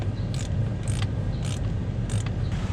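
A hand-held T20 Torx driver loosens a screw on a Tesla Model 3 cover, giving a regular series of about five short clicking ratchet sounds over a low background hum, with no talking.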